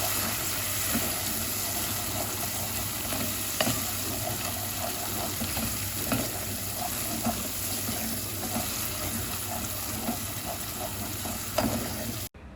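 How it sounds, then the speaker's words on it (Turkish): Vermicelli frying with tomato paste in a pan, a steady, close sizzle with occasional stirring scrapes and clinks running throughout. "Bir çay bardağı şehriye ekliyorum ve güzelce şehriyemi kızartıyorum."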